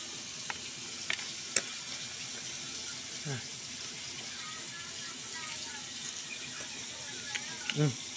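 Constant soft crackle and sizzle of buriring seafood frying in oil, with occasional faint clicks and low voices in the background.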